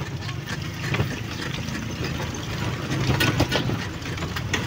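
A motorcycle engine idles outdoors, a steady low rumble that runs the whole time beneath a busy wash of background noise and a few sharp clicks.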